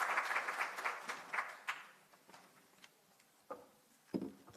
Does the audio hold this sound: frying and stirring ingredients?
no